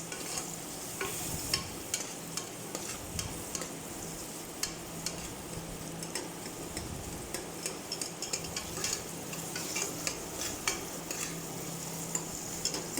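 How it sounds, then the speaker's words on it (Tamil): Spices and dried chilies sautéing in a pan for a home lunch, a steady soft sizzle with repeated scraping stirs and light clicks of the spoon, close and without talk. "இப்போ இது எல்லாத்தையுமே கொஞ்சம் பொன் வறுவலாக நல்லா நான் வதக்கி விட்டுக்கிட்டேன்."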